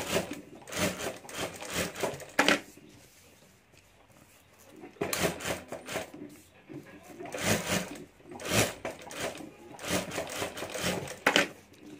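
A sewing machine stitches along the bottom of a homemade handbag in several short, rattling bursts with a long pause between them, fairly close and moderately quiet.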